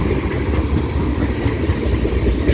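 A CN freight train locomotive's diesel engine throbs in a steady, heavy low idle, loud and close and unbroken throughout.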